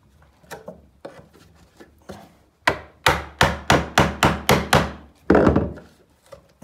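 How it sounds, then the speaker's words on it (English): A chisel prying up carpet gripper makes soft scraping knocks at first, then a quick run of about eight loud, close wooden thunks, followed by a heavier scraping clunk. "and then just try and ply it up"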